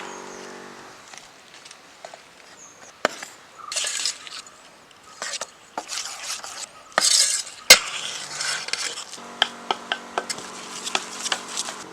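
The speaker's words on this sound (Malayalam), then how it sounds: "പൊടിച്ച് വെച്ചിരിക്കുന്ന ബദാം ചേർന്ന് നല്ലപോലെ മിക്സ് ചെയ്യും" Ground almonds get stirred into warm sugar syrup with cardamom powder for almond ladoo, giving scraping spoon strokes and sticky clinks against the pan in irregular bursts, close and fairly quiet with no talking.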